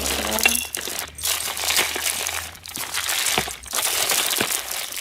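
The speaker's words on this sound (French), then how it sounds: "Désolée pour le bruit de sachet" Steady plastic bag crinkling and rustling, close and continuous, with occasional sharper crackles as the bag is handled.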